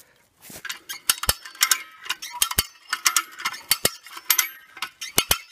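A hand winch ratchet clicks in irregular bursts of sharp metallic ticks while being tensioned to pull over a large poplar during manual felling, close and loud with no talk.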